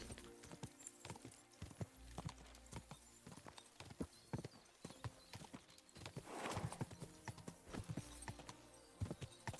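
Horse hooves clip-clop in steady rhythmic beats as a rider travels in the video game Kingdom Come Deliverance II, moderately close, with no talk over them.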